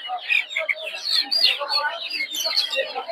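A dense, nonstop chorus of high peeping chirps comes from tiger chicken chicks crowded together at the Tongi poultry market, close and lively, with faint voices underneath.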